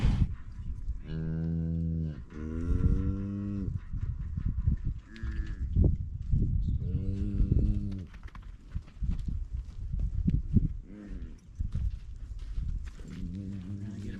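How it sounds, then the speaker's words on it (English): Cattle and calves mooing repeatedly in a working corral, loud overlapping bellows from cows and calves with hoof clops and shuffling between calls. "So I'm having a problem that all of the mothers are down eating, and I still have a pile of calves here."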